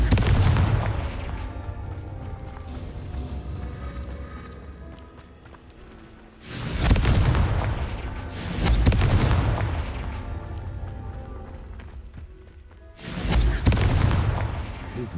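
Confringo fire spell blasts in the Hogwarts Legacy video game, three heavy booming explosions spaced a few seconds apart, each loud and rumbling before fading into a lingering roar, with a faint voice under the sound.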